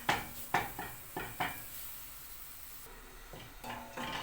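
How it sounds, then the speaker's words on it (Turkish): Flour roasting in a pot while being stirred for a creamy vegetable soup, with several sharp spoon-against-pot knocks and scrapes over a soft, steady sizzling hiss, close up and without any talking. "Unum kavruldu arkadaşlar."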